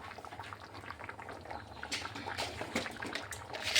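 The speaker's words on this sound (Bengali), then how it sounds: "দুধটা দিয়ে ভালোভাবে একটু ফুটিয়ে নিচ্ছি।" Rice and milk boiling in a pot, a faint, continuous bubbling and fizzing heard up close, with small pops rising and falling in a steady simmer.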